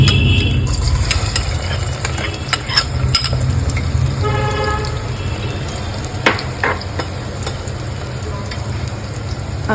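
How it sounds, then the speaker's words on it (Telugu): Two cardamom pods and two chopped onions fry in hot oil while a spoon stirs, giving a continuous close sizzle with scraping clinks and a faint vehicle horn in the background, with no talking. "నూనె కాగాక దాంట్లో 2 యాలకులు, అలాగే చాప్ చేసి పెట్టుకున్న 2 ఆనియన్స్"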